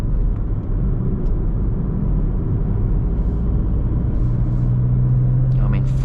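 A car cruising on a freeway in fourth gear, with steady low engine and road rumble throughout and a faint rising whine near the end.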